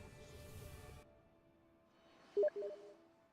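A Steam chat message notification sounds twice in quick succession, short and fairly loud, after a second of low background noise.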